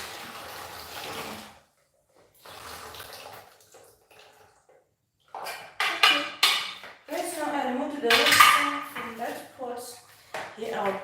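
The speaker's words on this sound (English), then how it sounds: "Now I'm about to remove the water from the pot." Water is poured out of a cooking pot amid clanking pots and cutlery in a home kitchen, coming in bursts between quieter stretches, with someone talking over parts of it.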